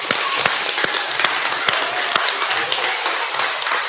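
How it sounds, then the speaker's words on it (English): A school audience at a speech day claps steadily for a few seconds, a dense patter of applause with a few sharper, louder claps standing out. "Let's give them a round of applause."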